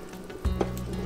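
Duck gumbo cooking in a pot gives a soft, steady sizzle, with a brief stirring clatter near the middle. No voices.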